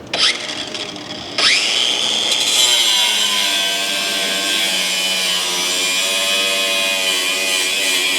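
A power tool cuts through an Audi S5 exhaust test pipe: after a brief start and stop, a loud, close, sustained whining grind with shifting pitch continues steadily to the end.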